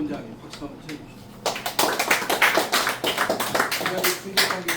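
A lecture audience applauds the first speaker of a peace and unification security talk. A brief stretch of speech comes first, then a burst of many hands clapping starts and holds steady to the end.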